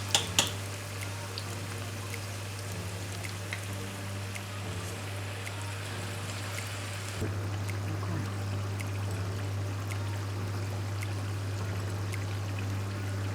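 Fritter batter dropped from two spoons into hot oil in a home kitchen sizzles and bubbles steadily and fairly loudly, with a steady low hum underneath and a couple of small knocks at the start.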